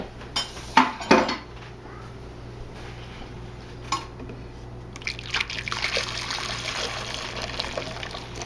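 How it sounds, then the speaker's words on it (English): Dishes clink and clatter sharply at first, then scalded milk mixture for potica trickles and splashes steadily into a bowl, close by, with no talking. "pour the scalded milk mixture into this bowl"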